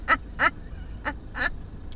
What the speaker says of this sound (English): we are professional adults feeding birds at a gas station